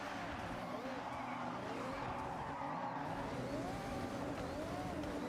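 A Toyota Supra slides through a drift in Forza Horizon, its engine note rising and falling over continuous tire squeal and skidding, fairly faint and steady throughout.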